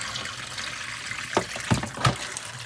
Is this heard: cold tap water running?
yes